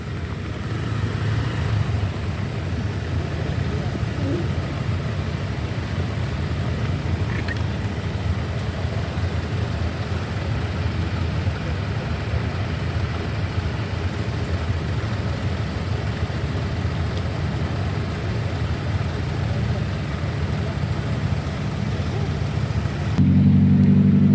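Congested traffic of cars and motorbikes on a road to and from Telaga Menjer near Dieng makes a steady, dense rumble of idling and creeping engines throughout, with someone talking over it.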